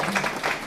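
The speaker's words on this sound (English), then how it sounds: "Lots of clapping for that question." A town hall audience claps briefly after a question, a steady wash of applause throughout the short moment.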